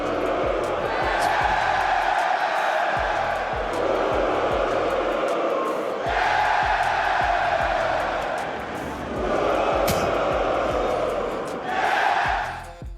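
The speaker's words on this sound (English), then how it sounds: "boos for MOUZ, cheers for Mongolz" Esports arena crowd at DreamHack roaring in repeated swells, cheering for Mongolz and booing MOUZ, dense loud massed voices rising and falling over several seconds with a sharper burst near the end.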